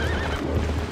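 A horse in The Legend of Zelda: Twilight Princess HD whinnies with a wavering, high cry over a low steady rumble of background noise.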